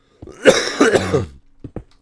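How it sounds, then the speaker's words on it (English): A man coughs twice in a deep, raspy burst up close, followed by a couple of small throat-clearing sounds. "one of these days this cough will go away completely."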